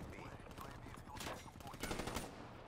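Rapid bursts of HVK-30 assault rifle fire shot from the hip in a video game, loud, crackling shots in quick succession, with faint talking underneath.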